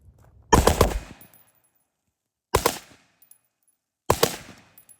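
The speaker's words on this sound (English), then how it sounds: "So we'll do a little bump firing." An LMT rifle with an 11.5-inch barrel is bump fired outdoors in three sharp bursts of rapid shots. Each burst is loud and close and fades quickly into silence.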